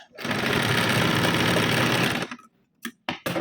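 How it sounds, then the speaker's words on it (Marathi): A sewing machine runs in one steady, loud burst for about two seconds as it stitches three-quarter-inch tucks on a size 38 four-tuck blouse, then stops. A few short clicks and handling noises follow. "जो टक्स आहे त्याला देखील पाऊण इंचावर शिवून घ्यायचे"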